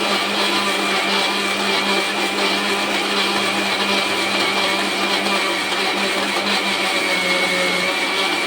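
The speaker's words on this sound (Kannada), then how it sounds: "ಚೆನ್ನಾಗಿ ಮಿಕ್ಸಿಲಿ ರುಬ್ಬಬೇಕು." A kitchen mixer grinder grinds ingredients with a little water, giving a continuous loud, even motor whir that holds steady for the whole stretch with no talking over it.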